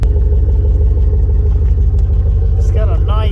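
V8 Chevrolet Monte Carlo SS with a Thrush exhaust idling nearby, a steady loud low rumble throughout, with a brief voice near the end.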